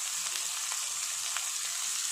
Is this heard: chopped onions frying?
yes